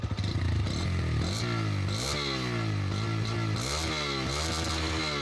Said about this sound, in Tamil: இப்போ வந்து பார்த்தீங்கன்னா, பல்சர் 125 சிசியோட சவுண்டு.